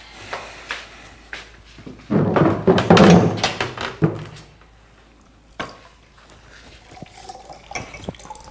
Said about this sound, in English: You're spilling water all over the place.